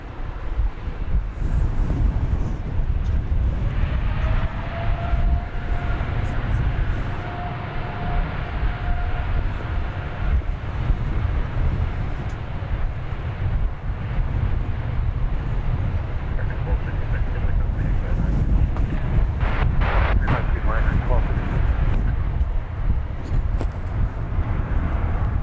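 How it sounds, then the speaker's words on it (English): A Korean Air Boeing 787-9 Dreamliner airliner at DFW airport gives a constant loud roar and rumble with a faint rising whine, mixed with wind buffeting, while people talk over it. "time for Korean Air Flight 32, a -9 Dreamliner"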